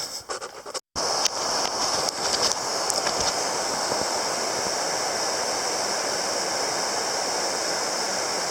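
Steady broadband rush of Cosby Creek flowing over rocks, loud and close, after a brief bumpy start with a momentary dropout, then constant and unbroken with no talk.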